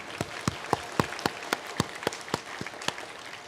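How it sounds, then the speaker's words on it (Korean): A church congregation claps together in a steady, even rhythm of sharp beats, moderately close with a roomy ambience and no talk over it. "우리 하나님께 영광의 박수 한번 올려드리시죠."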